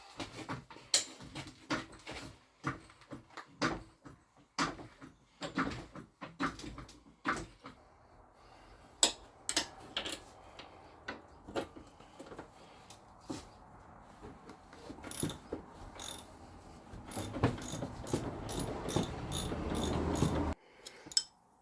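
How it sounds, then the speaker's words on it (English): Bolts being removed from the shocks of a Honda Pioneer 1000 side-by-side: a long run of sharp metallic clicks and ratcheting taps at uneven intervals, with a denser rattling burst near the end. "Just jack it up and take the bolts out."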